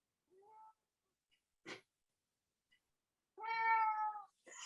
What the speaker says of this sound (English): That's Annika's cat